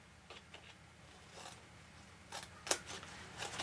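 Scissors snip through paper while cutting a gift box: a few faint, quiet snips early on, then a cluster of sharper, closer cuts toward the end against a quiet room.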